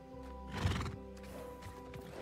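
A horse gives a loud, shaky whinny in Hogwarts Legacy over a faint steady musical tone, with a few soft hoof clops around it.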